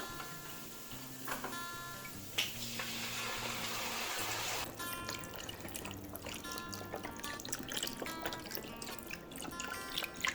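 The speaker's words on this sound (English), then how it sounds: "this time I am ready to pour our beef stock" Beef stock pours steadily into a soup pot for a few seconds, then gives way to faint drips and small clinks and kitchen ticks.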